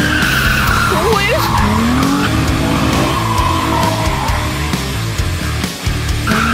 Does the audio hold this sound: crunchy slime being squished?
no